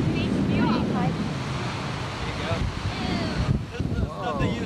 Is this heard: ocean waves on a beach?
yes